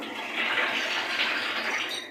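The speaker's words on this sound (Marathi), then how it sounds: "हे बघा, आता 2-3 पानांनी स्वच्छ धुवायची।" Vegetable leaves are washed in water, a continuous sloshing, splashing wash that swells slightly midway and carries on steadily without any voices.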